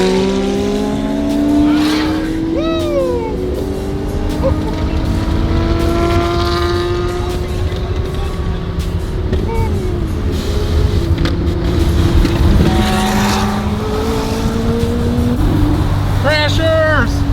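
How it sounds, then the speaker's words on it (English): A McLaren Artura supercar drives along with a steady, moderately loud engine note that rises and shifts pitch with occasional tire squeal, while people talk over it almost throughout. "that's the Artura, huh? Yeah. That thing sounds boring."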